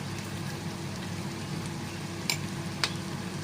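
Eggplant pieces with turmeric and salt fry in a pan, giving a soft, steady sizzle close by, with two sharp clicks near the end as the pan is stirred.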